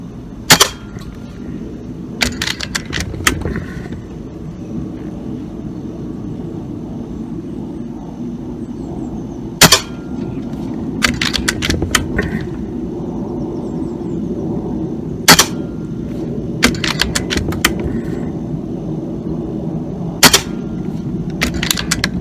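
Gunfire from shooting at targets in a video game, sharp isolated shots and short bursts recurring irregularly over a constant droning background hum.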